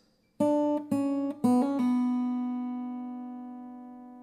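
A short acoustic guitar riff, a quick run of plucked notes including a hammer-on, then a final note left ringing and slowly decaying, close and clear with no speech.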